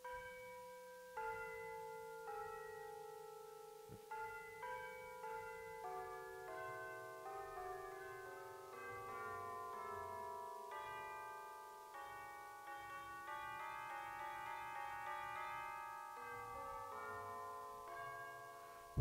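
Sampled bell sounds are played back in Reaper audio software: a quiet sequence of struck bell tones whose ringing overtones overlap and decay, forming a shifting melodic pattern.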